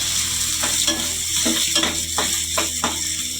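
Chopped onion and fennel seeds fry in a pan for an egg gravy, producing a loud, close sizzle broken by a run of rhythmic stirring scrapes.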